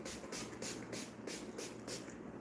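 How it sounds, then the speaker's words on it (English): Rose water sprayed from a bottle onto hair during a makeup and curly half-up hairstyle routine, five quick soft hissing pumps in a steady rhythm, close and faint. "I'm just spraying with rose water first"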